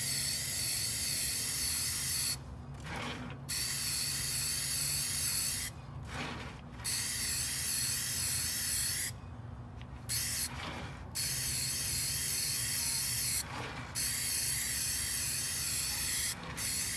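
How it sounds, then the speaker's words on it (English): Steady broadband hiss of a spray paint can base-coating a tumbler, in several bursts with short gaps between, fairly close and moderately loud. "do a test spray."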